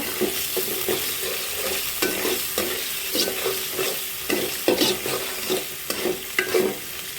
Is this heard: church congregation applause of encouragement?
no